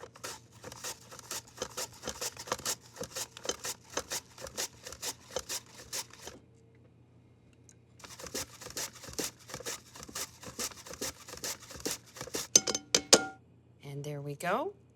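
Apples are sliced thinly on a mandolin slicer in a steady run of quick, crisp scraping strokes. After a brief pause, the slicing resumes, ending with a few clinks.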